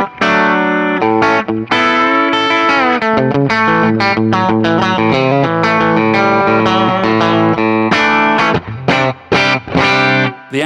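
A J-Caster electric guitar plays a continuous chord-and-melody passage through a modelled early-1960s blackface Deluxe Reverb amp, with a chorus-like effect and light distortion, loud and alone without talk.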